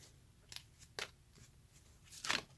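A tarot deck being shuffled by hand: a few quiet, papery riffling bursts spaced irregularly over a soft background, with the last one the fullest.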